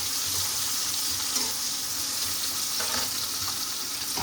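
Oil heating and starting to fry in a pan on a home stove, a steady close hiss and crackle that runs without a break, with a few faint clinks near the end and no talk.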